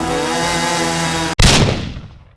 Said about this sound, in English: And then I use my Ryobi drill.